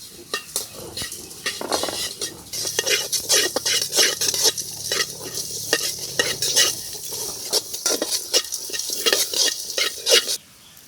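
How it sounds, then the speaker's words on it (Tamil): Dried chillies dry-roasting in a pan for a village-style tomato chicken curry, with a utensil scraping and stirring in a steady run of close, crisp clacks and a faint sizzle throughout. "மிளகாவை வறுத்து எடுத்துக்கிறேன்."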